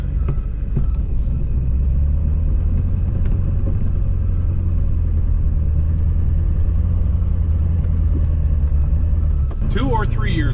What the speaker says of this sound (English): I'm going to go into four-wheel drive, and then I'm going to go into 4-low,